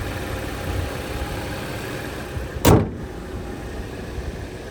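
A 2014 Jeep Patriot's 2.4-liter four-cylinder engine idles smoothly and steadily, a low even hum broken once by a brief loud clunk partway through; no voices.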